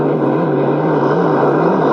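A GP hydroplane racing boat engine runs at full throttle on Lake Rotoiti, a loud, sustained, near roar with a steady high-revving drone and no break.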